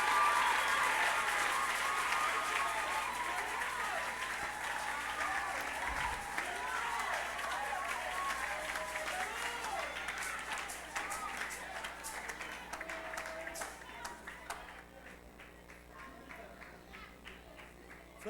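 A church congregation claps and applauds, a dense, loud wash of clapping mixed with voices that carries on for most of the stretch before thinning out near the end.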